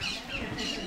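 A short, harsh squawk from a red parrot at a zoo aviary, two quick raspy calls close by, heard alone.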